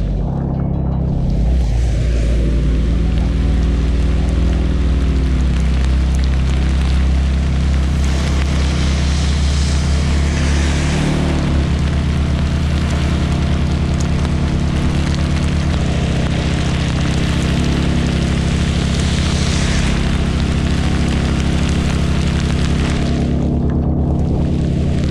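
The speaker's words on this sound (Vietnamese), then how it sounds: "Trời đang mưa." Rain falls on a car driving over the Bao Loc mountain pass at dusk, a constant loud wash of hiss over a steady engine and road rumble, with no talk.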